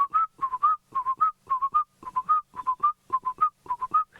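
A person whistles an imitation of a black-collared barbet call, repeating short rising two- and three-note phrases in a steady, quick rhythm, clear and close with no other sound.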